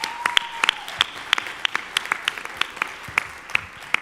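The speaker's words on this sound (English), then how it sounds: "Give her a big round of applause" Applause at a town hall meeting in Evanston, Illinois, sparse, distinct individual claps at an irregular rhythm, a small group rather than a full crowd, with a faint tone underneath.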